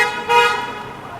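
A single car horn honks nearby, a sustained toot over steady Saturday night street traffic noise on Yonge Street, Toronto.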